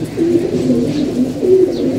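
Pigeons coo softly and repeatedly, several overlapping low throaty calls from female pigeons sitting in a loft, steady and close with no talk.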